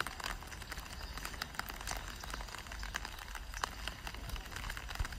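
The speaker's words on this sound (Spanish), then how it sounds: "Y lloviendo, que es lo más importante." Steady rain falls at night in a Santander street, a dense, even hiss of drops pattering on surfaces with occasional louder splats, continuous throughout with no voices.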